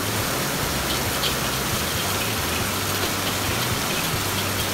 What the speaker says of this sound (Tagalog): napakalakas na ulan po